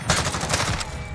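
Automatic gunfire in Call of Duty Modern Warfare, a quick, close run of sharp shots fired in a tight rhythm, loud and alone for about a second.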